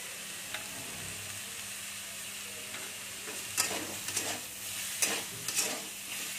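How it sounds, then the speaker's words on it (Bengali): Ridge gourd being turned in a hot pan with a light sprinkle of salt, a soft background sizzle broken by a few scraping stir strokes toward the end, fairly quiet. "ঝিঙেগুলো একটু নেড়ে নেবো, আর এর মধ্যে একটু হালকা নুন দিয়ে দিচ্ছি।"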